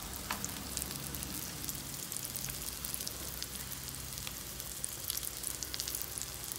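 A baldchin grouper frying in a pan gives a steady, dense sizzle with scattered pops and crackles, close and unbroken, with no talking.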